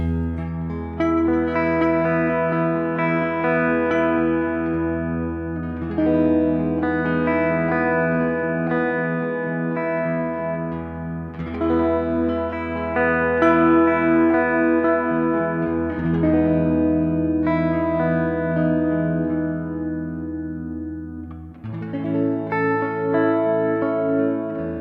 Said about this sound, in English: It's a very simple, slightly panning reverb patch, but that reverb's just gorgeous.